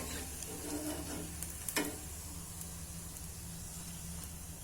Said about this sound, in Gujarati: આ રીતના આપણે બધી તળી લેશું. આપણે તેલ નીતાતા જાશું ને કાઢતા જાશું.